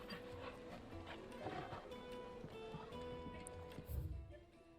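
Torgal, the dog companion in Final Fantasy XVI, gives soft whimpering dog sounds while being petted, faint and low in the game mix over quiet ambient background, with a brief low thump near the end.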